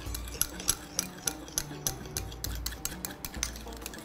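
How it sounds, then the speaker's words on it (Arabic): Butter, breadcrumbs and grated Roumi cheese being beaten hard in a bowl to build a foam, with a steady run of rhythmic scraping strokes and light clinks of the whisk against the bowl, close and fairly quiet. "انا هقعد اضربه كويس قوي عشان نحصل على الفوم"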